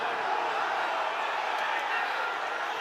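A rugby stadium crowd at Munster versus Scarlets shouts in protest at a high tackle, a dense, sustained roar of many voices with commentary running over it.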